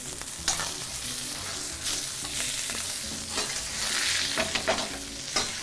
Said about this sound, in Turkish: Hafif eti kavurarak kahverengi bir hale getirerek onu daha maksimum bir lezzete çıkartıyoruz.